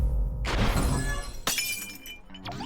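A glass window shatters in the video game Ultrakill, with a loud crash and then a trail of tinkling shards, followed by a second sharp breaking burst with its own scattering of glass.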